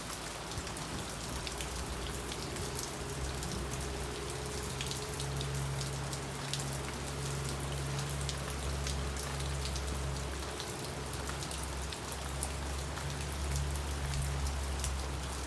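Steady rain falls and patters on surfaces outdoors in Jamaica, a continuous even wash of drops with a low hum underneath, with no voices heard.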